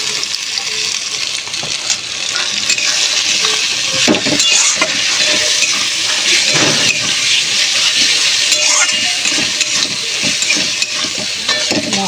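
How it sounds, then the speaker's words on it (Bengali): Spice paste of onion, tomato, turmeric, chilli powder and ginger-garlic paste frying in a pan, a steady loud sizzle with repeated scraping stir strokes throughout, no talking. "মশলাটা একটু ভালো করে একে কষিয়ে নেব"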